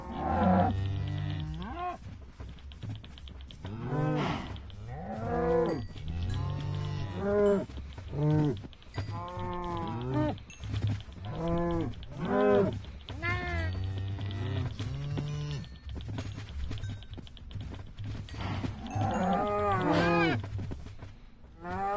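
Many cows moo repeatedly in Minecraft Bedrock Edition, overlapping long drawn-out calls close at hand, continuing steadily without pause; a game-like animal chorus with no talking.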